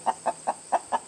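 Backyard flock chickens, hens raised with broody mothers, give five short evenly spaced clucks, close and clear with no talk.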